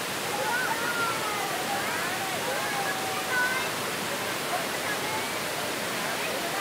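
Thac May waterfall in Thanh Hoa pours with a steady broadband rush of falling water, constant and fairly loud, with faint chirps and distant voices drifting above it.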